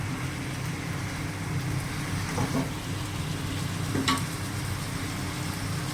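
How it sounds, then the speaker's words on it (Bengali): Lightly fried barbecue chicken wings being stirred with spices in a pan, a soft continuous frying hiss with faint scraping strokes as the mixture is turned, no voices. "হালকা ফ্রাই করা আছে দিয়ে মশলাটা নাড়িয়ে দিচ্ছি একদম শুকনো শুকনো হবে"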